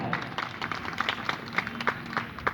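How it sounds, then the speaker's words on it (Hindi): Audience at a Savitribai Phule and Jaipal Singh Munda teachers' honour day event in Manpur clapping, a scattered burst of applause heard faintly and from a distance. "उनके लिए आप एक बार जोरदार ताली बजा दें"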